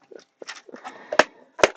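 A person sneezes twice in quick succession, two sharp broadband bursts close to the microphone, with quieter indistinct movement and murmur before them in an indoor crafting setting.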